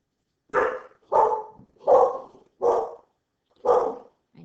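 Several dogs bark in a steady series of five loud, close barks with short pauses between them, some carrying a rough, growly edge, and no one speaks over them.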